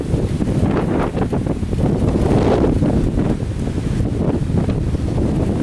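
Strong storm wind gusts buffet the microphone beneath a gust-front shelf cloud, a continuous loud roaring rush that swells and eases without pause.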